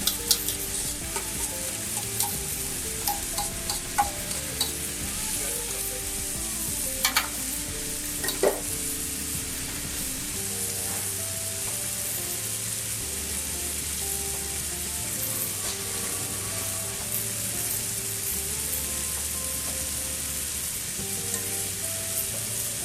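Tandoori chicken pieces fry in a pan with a steady, close sizzle for the whole stretch. Faint clinks and scraping stirs sound at intervals, and a soft musical hum runs underneath. No one speaks.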